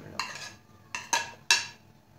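Boiled, cut potato pieces tumble into a bowl for chaat with a few sharp clattering knocks of utensil against dish, three or four distinct hits spaced unevenly, close and moderately loud with no talking.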